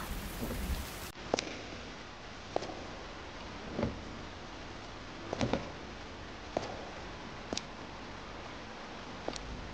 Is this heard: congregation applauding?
no